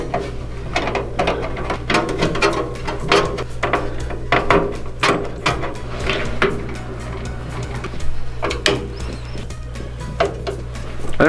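Screwdriver work fastening a motherboard into a PC case during a first desktop build: a run of irregular small clicks, scrapes and metallic taps, close and fairly steady, over a low constant hum, with no talking.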